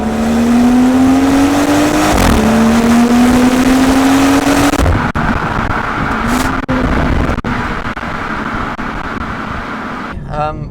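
BMW M240i engine accelerating hard, its note boosted through the cabin speakers: a loud, rising drone that climbs through two upshifts, then settles into a steady cruise with a few sharp clicks, while someone talks over it.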